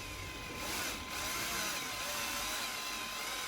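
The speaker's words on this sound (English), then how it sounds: "So I've got the drill on really slow speed. We need to try and cut." A power drill whirs steadily and continuously at low speed while cutting a thread, close up, with a slight dip partway through and no voices.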